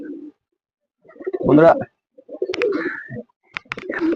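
Indian fantail pigeons coo in short, soft, throaty bursts close by in a pet pigeon loft, several calls spaced irregularly with brief silences between, while a person speaks briefly.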